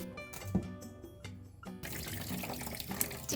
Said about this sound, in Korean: 설명대로 뿌려서 조금 뒀다가 흐르는 물에 잘 헹궈줘요